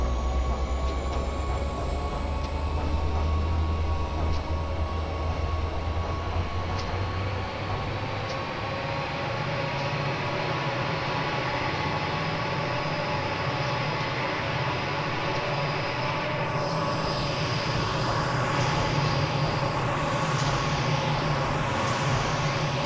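An EMD SD45 diesel locomotive in the Train Simulator Classic game throttles up to full power, a steady loud low engine drone with rumbling bass and a faint high whine running continuously throughout.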